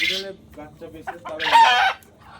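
Local deshi chickens cluck close by on a farm, followed by a loud, sustained crow-like squawk, with a voice speaking briefly at the start.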